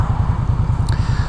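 A 2016 Victory Octane motorcycle engine runs while being ridden, a loud, close, steady throbbing with rapid low pulses and no voices.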